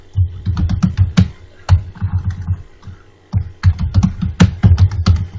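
Rapid clattering keystrokes on a computer keyboard entering a narration in Tally Prime accounting software, close and crisp, in quick bursts with a short pause midway, no speech.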